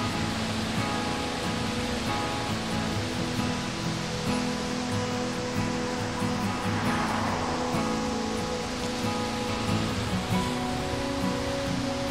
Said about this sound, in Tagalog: May ilog sa baba.